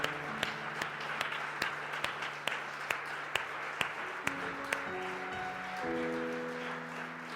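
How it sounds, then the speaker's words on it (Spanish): Church congregation applauding the Lord during a sermon, with sharp rhythmic claps standing out above a steady wash of clapping and a sustained musical backing underneath. "Dale más fuerte el aplauso al Señor."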